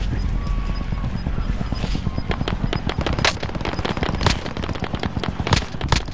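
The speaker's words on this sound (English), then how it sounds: "is he shooting with that burst gun?" Burst-fire gun shooting in Call of Duty Warzone, a steady rattle of rapid shots over continuous background game noise, punctuated by a few louder cracks close by.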